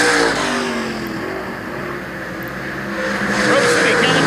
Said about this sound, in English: Chad Cooney and Barry Sorensen racing it out for your bottom 10.